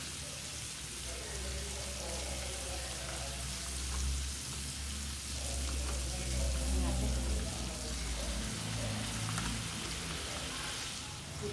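Garlic, onion, tomato and black beans sautéing in a pan, a steady low sizzle and crackle running throughout, with talk in the background.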